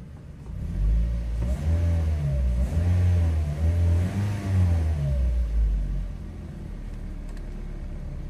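A Toyota Vios engine runs at idle with a steady low rumble and a slight rise and dip in revs partway through, close and continuous.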